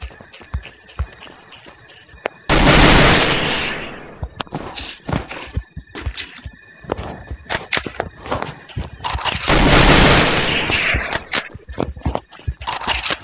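Video game gunfire comes in two loud, sustained bursts of rapid shots, separated by scattered clicks, taps and shuffling movement sounds.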